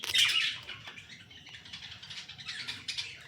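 Pet budgerigars, albino and lutino birds, twitter and chirp inside a cage in a rapid, busy chatter, loudest at the start and continuing steadily with no talking.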